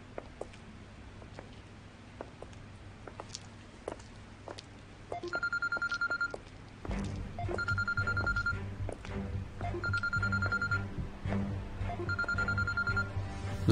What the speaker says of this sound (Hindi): ज्यादा जरूरी नहीं हो तो फोन बाद में भी उठा सकती हो।